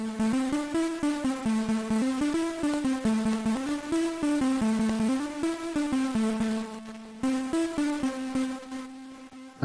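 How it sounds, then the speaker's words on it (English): Pocket Operator chiptune with its send turned fully to a lo-fi effect: a steady, bright synth pattern of stepped square-wave notes over a repeating bass line, loud and continuous without pause. "Actually sounds quite good with the send all the way to the lo-fi effect"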